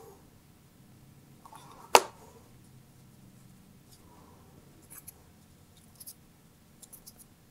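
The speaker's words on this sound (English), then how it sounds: "I'm going to snip it" A single crisp snip of scissors cutting braided recycled fabric for a choker, close and sharp, followed by a few faint small handling taps in a quiet room.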